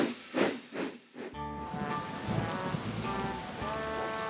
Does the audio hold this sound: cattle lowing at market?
no